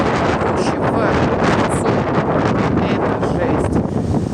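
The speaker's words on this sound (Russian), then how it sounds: "мелкий песок с огромным порывом ветра" Strong storm gusts roar across a beach, driving fine sand, pebbles and sea spray in a dense, loud, unbroken rush with buffeting wind noise on the microphone.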